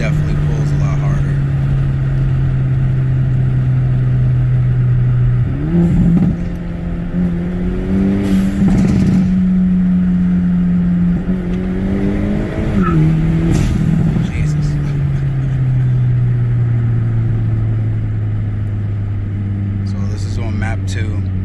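A JB4-tuned Hyundai Elantra N accelerates hard, its engine note droning steadily and rising in pitch through the pulls, heard from inside the car with talk running over it most of the time.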